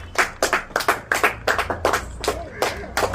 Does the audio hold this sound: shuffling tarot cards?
no